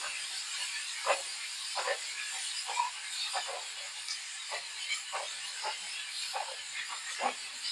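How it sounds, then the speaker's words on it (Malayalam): Chopped vegetables for a momos filling sauté in a hot pan, giving a soft continuous hiss broken by quick, irregular crackles and spatter pops, fairly quiet and with no voices. "എല്ലാം കൂടെ നന്നായിട്ടൊന്ന് വഴറ്റിയെടുക്കണം."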